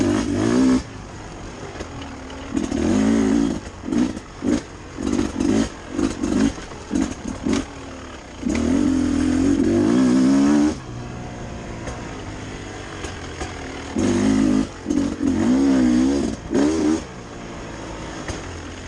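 A 2021 Beta 300 RR two-stroke dirt bike being ridden, its engine blatting loudly in repeated bursts of throttle with short gaps and longer sustained revs, close and prominent.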